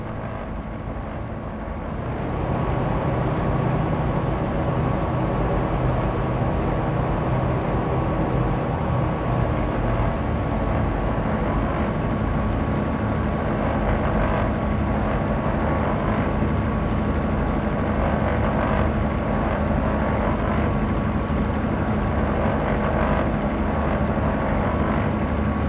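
A BN-2 Islander twin-prop aircraft in X-Plane 11 drones steadily with broadband engine and wind noise, rising after a quieter start and holding loud and continuous during a crosswind approach to a short runway at Sabah.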